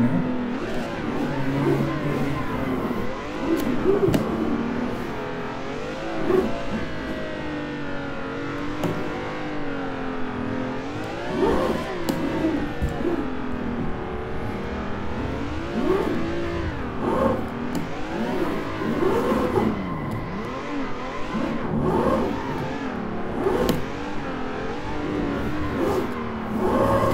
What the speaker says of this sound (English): I need to do a little bit of drifting now.